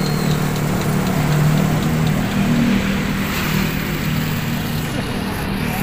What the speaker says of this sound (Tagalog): Tahimik yung makina, halos di natin marinig.